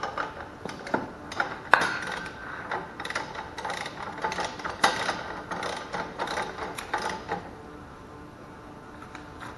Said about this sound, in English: Now we're going to torque it again to 50.